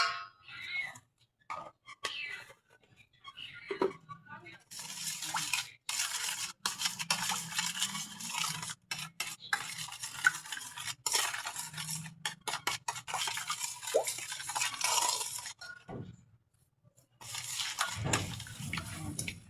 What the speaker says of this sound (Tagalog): Halo-haluin lang natin to mga sis hanggang sa matunaw yung ating asukal bago natin ilagay yung ating flour.